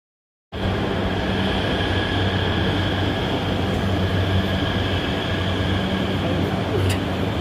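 Steady low rumble and hum of a Delhi Metro train approaching Anand Vihar station, continuous and fairly loud, with a faint high whine throughout and no talking.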